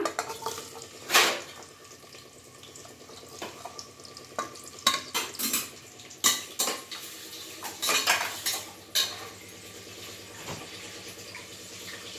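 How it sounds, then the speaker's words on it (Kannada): Onions dropped into hot oil and stirred in a pan for masala tomato bath, with sharp clinks of a metal spoon against the pan over a low, steady sizzle. "ಈಗ ಎಣ್ಣೆ ಕಾದಿದೆ, ಈರುಳ್ಳಿ ಹಾಕ್ಬಿಡೋಣ."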